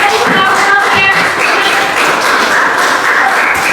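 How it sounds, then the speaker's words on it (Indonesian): Classroom audience of students clapping during a teaching practice session, a short burst of fairly loud, close hand claps mixed with thumps and a murmur of voices. "kita berikan tepuk tangan dulu"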